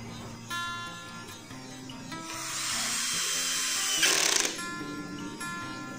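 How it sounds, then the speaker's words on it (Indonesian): A Total TDLI12325 12V cordless drill in screw mode, first speed and torque setting 12, drives a 1/4-inch screw into jackfruit wood: a loud, whining burst that swells for about two seconds over quieter workshop noise. "Di sini saya akan menyekrup menggunakan percepatan nomor 1 dan untuk modenya mode menyekrup pastinya di torsi nomor 12 terlebih dahulu."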